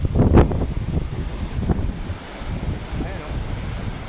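Strong wind blows at a tropical seaside with coconut palms and rushes hard across the microphone in a steady, loud roar. Waves wash faintly underneath.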